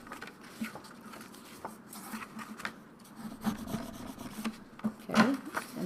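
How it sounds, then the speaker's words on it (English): Paper tabs on a small scrapbook pocket are folded in and creased, giving soft rubbing and rustling with a few sharper crinkles near the end, close by and fairly quiet. "So this little small pocket here, we're going to fold these tabs in."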